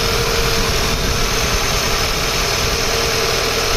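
An Audi A4 B8 engine idles while warming up after a power steering fluid change, a steady close mechanical hum with a constant low rumble and no talk.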